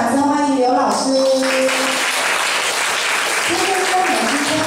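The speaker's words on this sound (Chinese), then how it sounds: "我们再次掌声欢迎刘老师" A hall audience at an academy end-of-term showcase claps loudly to welcome a tai chi teacher, dense sustained applause with a voice and some tonal sound layered over the start.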